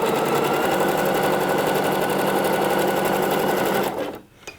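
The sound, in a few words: overlocker serging a seam allowance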